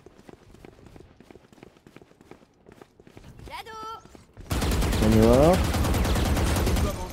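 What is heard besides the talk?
gunfire in the video game Valorant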